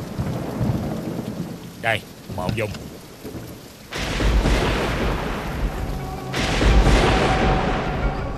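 A downpour hammers down with heavy rumbling thunder that swells twice, and a person speaks briefly over the storm near the start.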